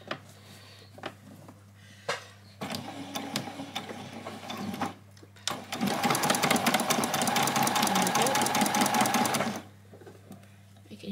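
A sewing machine runs in short bursts and then one long steady stretch of rapid mechanical stitching while sewing a doll's dress, its whirring clatter close and loud, separated by quiet pauses and small handling clicks.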